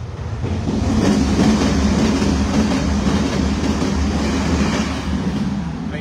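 A train rumbles across the railway directly overhead while the listener stands beneath the tracks: a steady, loud, broadband roar with a rolling low end and faint clatter that holds for about six seconds. No one speaks.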